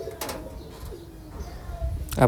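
Soft pigeon coos come and go in a quiet rooftop loft, with a louder burst of fluttering or close sound near the end.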